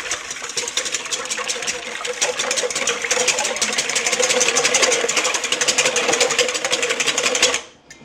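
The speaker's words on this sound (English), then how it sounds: "Go ahead and break my yolks. Pardon my bowl singing so much." A mixing bowl rings steadily as eggs and milk are beaten for cornbread, a fast continuous rattling whir that holds loud and even for about seven seconds, then stops abruptly.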